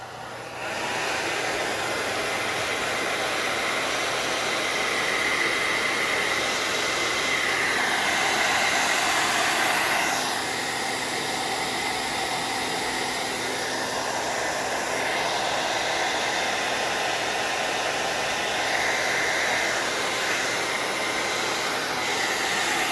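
A blow dryer runs steadily and loudly throughout, drying wet paint on a fall-themed door hanger, its continuous airy roar shifting slightly in pitch as it is moved around.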